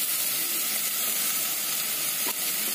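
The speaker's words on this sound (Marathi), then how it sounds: "थोडंसं तेलावरच परतवून घेणार आहोत." Ginger-garlic paste sautéing in hot oil for chicken dum biryani, with fried onion about to go in: a loud, continuous close-up sizzle and hiss that holds steady throughout, with no voices.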